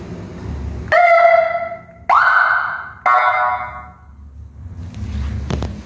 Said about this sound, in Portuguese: E aqui a sirene com 3 sons.